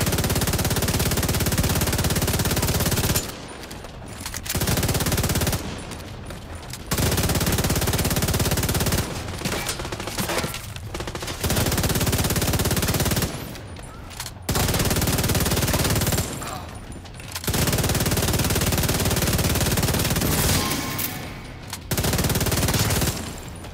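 Sustained automatic gunfire in The Division 2 game comes in long, loud, dense bursts broken by brief pauses, with rapid shots hammering close and continuous through each volley.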